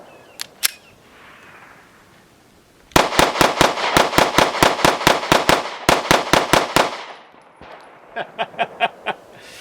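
A Smith & Wesson CSX E-Series Micro 9 handgun with a short barrel and extended 17-round grip fires two shots, then a fast, loud string of about sixteen close shots, followed by a quieter burst of several more.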